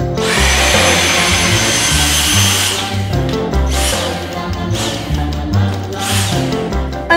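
A Dyson DC59 cordless stick vacuum cleaner runs loud and close with a steady high whine, its pitch and tone shifting as it moves over surfaces, with no talking.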